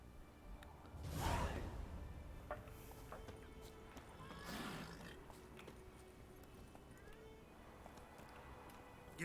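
Roach the horse in The Witcher 3 gives a whoosh and a whinny-like burst early, then a second softer burst, over quiet ambience with faint hoof clip-clop.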